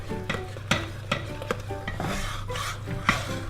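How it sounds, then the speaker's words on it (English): A hot baking mixture is stirred vigorously in a pan off the heat, giving repeated close scraping and slapping strokes in an irregular rhythm over a faint low hum. "You just tip it all in, and then you have to stir vigorously and do it off the heat."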